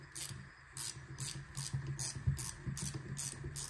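A ratchet tightens the bolts on a Jaguar F-Pace electric steering rack, producing close, crisp bursts of clicking in an uneven rhythm with short pauses between strokes.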